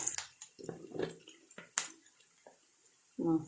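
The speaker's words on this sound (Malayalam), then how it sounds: "കടലയുടെ വെള്ളം ഊറ്റിക്കളയാം" Water draining off boiled chickpeas in short, uneven splashes and pours, with drips and a clink between bursts, close and fairly quiet.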